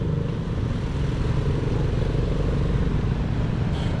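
A motorcycle or tricycle engine rumbles past on a street, a steady moderately loud drone with a faint clatter and no speech.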